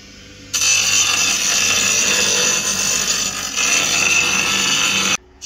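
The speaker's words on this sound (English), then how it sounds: "So we're welding up the intercooler pipes now." A MIG welder with aluminium wire welding intercooler pipes for a turbo Ford Falcon AU, a loud, steady buzzing hiss held for about five seconds before cutting off abruptly.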